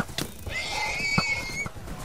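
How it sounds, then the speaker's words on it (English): In a war strategy game, a horse gives a loud, shrill whinny lasting about a second over a steady background of battle noise, with faint hoofbeats and a few sharp thuds. "Damn, his horse is fast."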